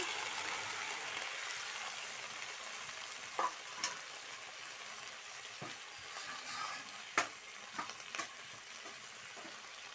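Malabar spinach with chopped ginger sizzling in a wok for a vegetarian dish, a faint steady frying hiss broken by a few sharp clicks and scrapes of stirring.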